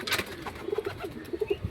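A pigeon cooing close by in a few soft, low, rounded bursts, with a brief flutter or rustle at the start and no speech.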